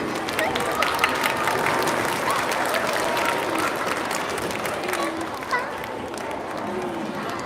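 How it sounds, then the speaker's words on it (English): An audience at a school district arts showcase applauds a theater company with a dense, steady wash of clapping that lasts throughout, with a hint of crowd voices beneath. "Let's get a round of applause for Wolfpack Theater Company"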